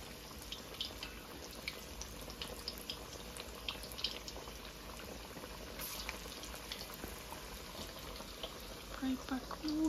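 Pakora batter fries in hot oil, a faint steady sizzle with scattered crackles and pops, continuous and low, ending in a brief louder clatter.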